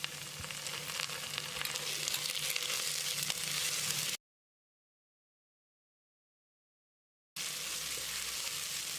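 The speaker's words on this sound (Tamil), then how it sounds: "2 டீஸ்பூன் இஞ்சி பூண்டு விழுது சேர்த்து பச்சை வாசனை போகிற அளவுக்கு ஃப்ரை பண்ணிக்கலாம்" Ginger garlic paste frying in a pan after onions, a bright continuous sizzle that cuts to silence for a few seconds, then resumes.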